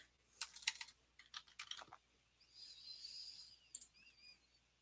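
Typing on a computer keyboard at night, heard as quick irregular clicking bursts of keystrokes, then a pause filled by a faint high whistle-like tone before a final short burst of keys.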